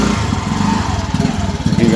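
A rented motorbike idles close by with a low, steady throbbing engine rumble, a slight pulsing unevenness running through it.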